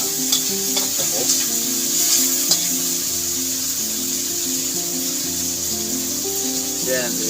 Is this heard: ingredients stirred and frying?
yes